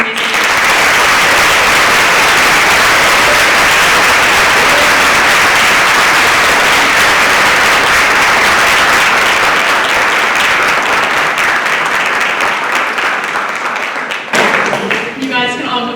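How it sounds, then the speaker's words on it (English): Sustained audience applause, loud dense clapping that holds steady for about fourteen seconds before tapering off, with a voice speaking briefly at the end. "Can we please have a round of applause for all these amazing"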